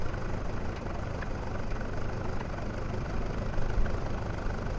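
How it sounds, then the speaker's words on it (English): A Guimbal Cabri G2 helicopter's gas engine idles in Flight Simulator 2020, a steady low rumbling drone that holds at an even, moderate level throughout with no talk over it. "Gas engine's still running."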